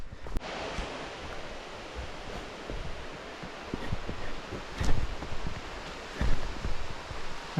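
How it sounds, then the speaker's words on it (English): A river flowing up ahead of a mountain hiking trail in the White Mountains, a steady broadband rush of water with scattered crackles and rustles nearby. "There's the river up ahead."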